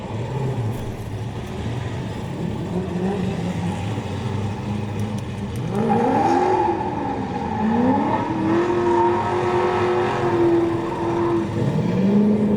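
Drift race cars, including an FRS, at a Pro Am drift event, engines droning and revving with rising and falling pitch, heard from a distance over steady crowd and track noise.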